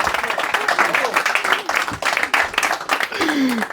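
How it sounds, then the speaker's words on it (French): Applause from a comedy show audience, a dense, continuous wash of many hands clapping throughout, with voices and a short laugh-like vocal sweep riding on top. "on l'applaudit"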